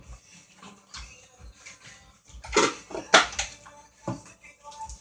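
Spoon clattering and scraping against a bowl as jelly is mixed in for a sweet baked treat, irregular knocks and clinks with a few louder bangs, close by, with faint background sounds.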